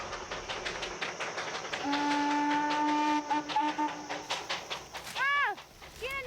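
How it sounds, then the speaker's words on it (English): A Darjeeling Himalayan steam train sounds a long, steady two-tone whistle, then a few short wavering toots, over the chuffing and clatter of the little engine climbing through mountain valleys, heard at moderate distance. "the sounds of the train they brought echo up from the valleys"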